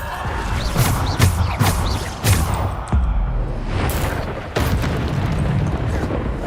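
Bombarda spell blasts in the Hogwarts Legacy video game: a run of loud booming explosions with sharp crashing onsets and rumbling low tails, repeating every second or so over a dense layer of game effects.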